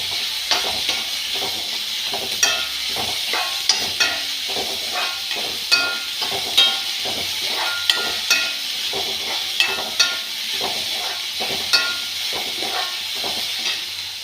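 Onions sautéing in a pan for a Kerala breadfruit koottucurry, with a loud, continuous sizzle broken by frequent sharp scrapes and taps of a spatula stirring throughout.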